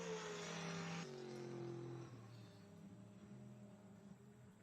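A 22X ST2 race car roars past on the track during a NASA Championships qualifying race at Pittsburgh International Race Complex; the loud engine note drops in pitch as it goes by, then fades into a distant drone.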